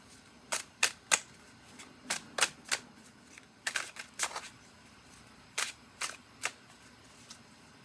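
Quick bursts of tarot card riffling and slapping as the deck is shuffled, a dozen or so crisp clicks in irregular clusters, close by with no talking.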